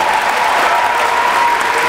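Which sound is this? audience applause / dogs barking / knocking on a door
audience applause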